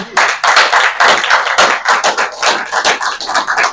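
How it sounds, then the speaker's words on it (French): Close, loud clapping and cheers from a party meeting audience during a secretary general's visit, dense irregular hand claps that stay steady throughout without any voices on top. "Vous pouvez les manifester par les acclamations"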